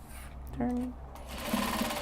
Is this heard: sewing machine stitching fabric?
yes